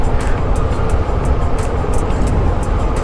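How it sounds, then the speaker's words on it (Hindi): Car coasting downhill in neutral on a road near Belpahari, a steady rushing road and wind noise with low rumble, close and continuous, without talk. "गाड़ी को कर दो न्यूट्रल और मज़े लो बस।"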